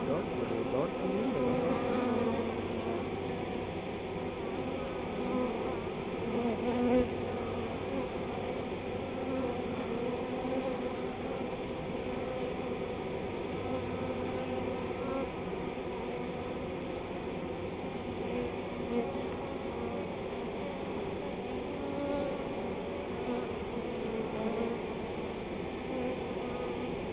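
A honey bee swarm moving into a new hive, a steady dense droning buzz of many bees held throughout at moderate distance, with faint speech-like murmuring blended into the hum.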